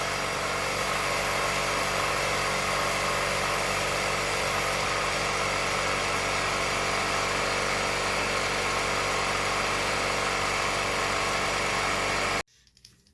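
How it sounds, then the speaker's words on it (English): Air compressor running as a steady, loud, continuous drone with a high whine, unchanging for about twelve seconds before cutting off abruptly into near silence. "Alright, air compressor kicked off."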